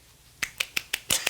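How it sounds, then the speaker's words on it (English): A woman claps in a quick, slightly uneven burst of six sharp, close claps after a moment of near silence, with no talking. "Oh, you got to get a good clap."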